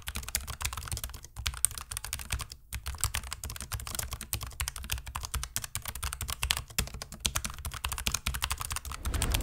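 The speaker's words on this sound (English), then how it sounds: "here's the Logitech MX Mechanical Mini with brown switches" Steady, fast typing on a Logitech MX Mechanical Mini keyboard fitted with brown switches, a dense run of close, crisp tactile key clicks with a brief pause partway through and no talking.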